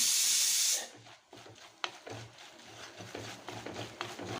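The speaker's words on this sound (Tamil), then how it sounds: "ரெண்டு டேபிள் ஸ்பூன் மிளகா பொடி போடுறேன் பொடி போட்டுக்கிறேன் இதை நல்லா வதக்கிக்கலாம்" Chili powder sizzling as it fries with garlic in hot oil, a loud bright hiss at first that quickly dies down to a softer, uneven crackle.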